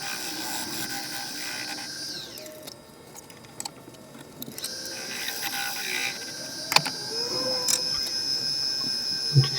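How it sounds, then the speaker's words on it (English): A Robert Sorby bowl gouge cuts the base of a cherry wood serving bowl spinning on a lathe, making a continuous scraping hiss with brief catches and changes in tone. "I'm just using the Robert Sorby bowl gouge now just to carry on cleaning up the mortise and create a dovetail in the bottom there"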